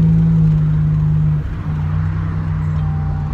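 Buick Grand National with turbo lag, heard from inside while accelerating and shifting gear: a loud steady engine drone that dips briefly as the gear changes, then settles back into a sustained hum.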